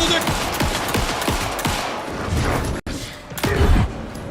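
Rapid gunfire in the video game Alan Wake 2, a string of sharp shots in a steady burst that slows into scattered heavier booms, with a player's voice talking over the shooting.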